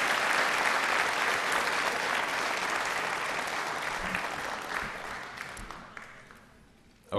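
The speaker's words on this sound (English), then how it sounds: "Let's have one more round of applause for our 7 Voices winners." Crowd applause fills a school auditorium at a high school awards assembly, a dense wash of many hands clapping that holds steady, then thins and fades toward the end.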